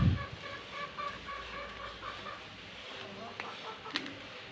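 Chickens cluck softly and intermittently over a steady outdoor garden background near a coop in İzmir, with a few sharper calls near the end.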